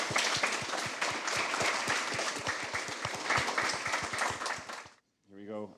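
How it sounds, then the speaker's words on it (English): Audience at a startup pitch event clapping for a panel, dense rhythmic applause with some distinct nearby claps, cut off abruptly near the end before a brief voice. "Round of applause for our panel"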